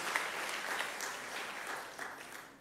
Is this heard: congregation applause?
yes